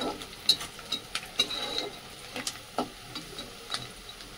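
Chopped onion sautés in a pan for a safflower-leaf vegetable dish: a soft, quiet sizzle broken by a series of irregular clicks and scrapes as a spoon stirs against the pan.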